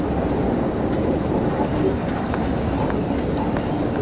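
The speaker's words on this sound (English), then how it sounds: "Literally, just simple air brakes." A British Rail locomotive in the Train Sim World 2 game brakes with simple air brakes. A steady low rolling rumble runs throughout, with a faint high-pitched whine and occasional light squeals from the wheels, and no talking.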